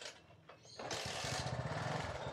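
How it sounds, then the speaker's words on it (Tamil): A motorcycle running on a capacitor in place of a battery catches and starts, then settles into a steady, close, rapid idle rumble after a brief quieter moment. "இப்போ வந்து நான் வண்டியை ஸ்டார்ட் பண்ண போகிறேன்."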